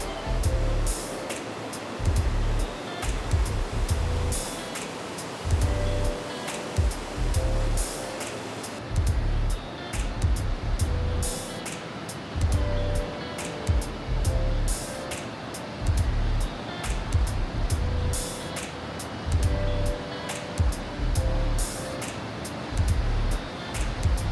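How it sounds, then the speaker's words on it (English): The 285-foot Box Canyon Falls in Colorado roars nearby as a constant loud rush of falling water, with repeated thumping bursts of wind or spray hitting the microphone throughout. "the roar of the 285-foot waterfall is extremely loud"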